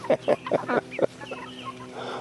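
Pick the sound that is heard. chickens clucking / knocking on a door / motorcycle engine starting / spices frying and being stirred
chickens clucking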